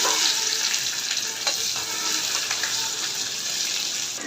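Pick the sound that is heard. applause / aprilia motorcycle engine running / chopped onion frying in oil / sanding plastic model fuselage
chopped onion frying in oil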